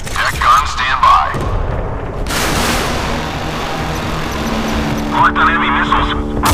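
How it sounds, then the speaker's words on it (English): Heavy booming deck-gun fire from a warship in the Modern Warships game, a loud blast followed by a long rumbling roar, with a radio-style voice talking at the start and end. "Battle stations, gun action. Deck gun, stand by."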